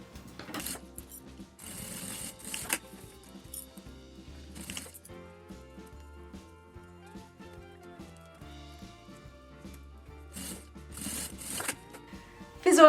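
A sewing machine stitches a transparent case made from milk cartons, its needle thumping in a steady rapid rhythm close by, with pauses and handling rustles between runs of stitching.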